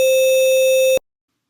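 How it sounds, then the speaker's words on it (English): A sine wave quantized to 2 bits, giving a loud, steady buzzy tone rich in harmonic distortion that holds for about a second and then cuts off abruptly into silence. "the 2-bit version is definitely introducing some audible harmonics into the sound"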